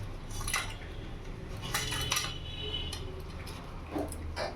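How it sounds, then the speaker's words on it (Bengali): A knife scores a whole hilsa fish on a hard surface, giving soft scraping strokes and light clicks at close range over a low background hum. "মাঝখান থেকে একটু আমি কেটে কেটে নেব, এরকম করে একটু চিড়ে চিড়ে দেবো"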